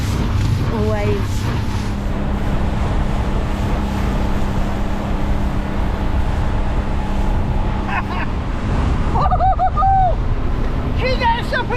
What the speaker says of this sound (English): Oh, waves.